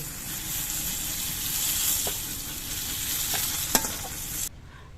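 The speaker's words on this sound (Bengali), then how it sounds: "পটলগুলো আমি লালচে রং করে ভেজে নিয়েছি" Steady sizzling of pointed gourd frying in a pan, with occasional stirring clinks and scrapes, close and fairly loud before cutting off abruptly.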